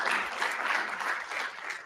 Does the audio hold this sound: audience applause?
yes